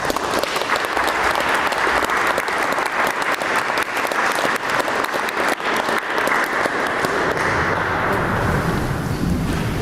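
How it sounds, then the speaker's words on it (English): Sustained audience applause at a county board of education meeting, a dense, even roar of many hands clapping that continues for about ten seconds and fades slightly at the end. "Let's give them all a round of applause."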